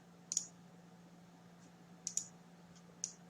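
Crisp computer mouse clicks come in quick pairs at close range, three brief clusters over faint steady hum in a quiet room.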